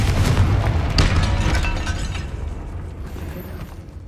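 Confringo spell explosion in the game Hogwarts Legacy, a loud booming blast with a crackling shatter that decays and rumbles away over several seconds.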